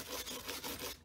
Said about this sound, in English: So we're going to take and brush these joints right here.